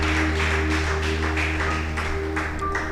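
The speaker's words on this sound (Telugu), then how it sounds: "చప్పట్లు కొట్టి ప్రభుని స్తుతించారు." A church congregation applauding in praise during a Telugu sermon, a steady wash of clapping lasting several seconds over a low sustained hum, with no speech on top.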